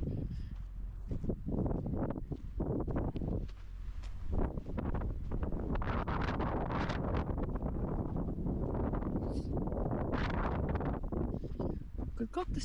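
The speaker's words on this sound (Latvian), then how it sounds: "Vējš tiešām ir stiprs." Strong desert wind in Arizona buffets the microphone in heavy, continuous rumbling gusts, with someone speaking through much of it.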